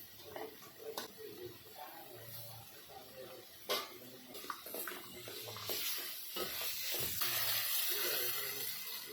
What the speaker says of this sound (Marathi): हे पण छान परतून घेऊया त्याच्यात आता बटाटा आणि बटाणा आहे ना हा टाकून घेऊया आपण